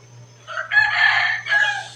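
A rooster crows at a temple yard in Lampang, Thailand, on a fresh morning, one loud, close call rising in two drawn-out bursts over a faint steady hum.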